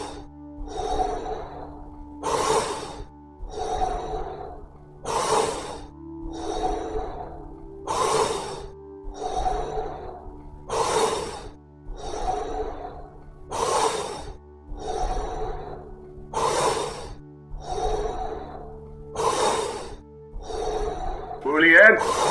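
Fast-paced Wim Hof breathing: a steady series of about eight full, forceful inhales and released exhales in an even rhythm, close and clear, with a low hum of background music beneath.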